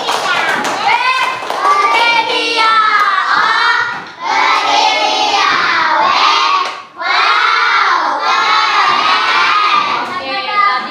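Primary school pupils in an Islamic school classroom burst into loud, excited shouting and cheering mixed with clapping, in several waves with brief dips between, close and lively.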